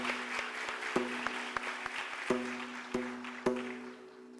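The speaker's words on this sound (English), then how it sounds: "A masterpiece like that deserves another round of applause." Applause from an audience following a 45-minute non-stop dance number at an arangetram, a steady wash of clapping with a few sharper claps and tonal music or hum underneath, moderately distant.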